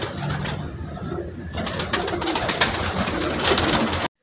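Pigeons cooing steadily in a rooftop pigeon loft in Pakistan, a dense flock chorus of soft overlapping coos with occasional wing flutters, close and continuous with no talk.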